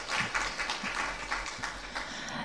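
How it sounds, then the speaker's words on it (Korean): An audience claps together in a steady round of applause at a new technology and new product certification briefing session. The clapping is dense and fairly faint, and it holds evenly throughout with no voices heard. "따뜻한 말씀해 주신 우리 이현숙 팀장님께 다시 한번 큰 박수 부탁드립니다"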